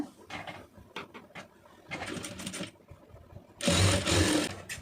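A sewing machine runs close by, stitching an Aari blouse seam in short mechanical bursts, with the longest and loudest run of stitching near the end.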